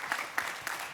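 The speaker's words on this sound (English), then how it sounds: "Round of applause for Stephen." Audience applause at a COP-22 climate conference session, a steady dense patter of many hands clapping for about a second, moderately loud with no voices over it.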